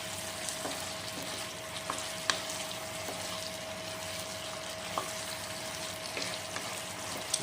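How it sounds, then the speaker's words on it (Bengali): Pointed gourd being stirred through poppy seed gravy in a pan, a steady low sizzle with a few soft scraping knocks of the spoon at irregular intervals, close and fairly quiet, no voices. "পটলগুলো একটু ভালো করে গ্রেভির সাথে মিক্স করে নেব"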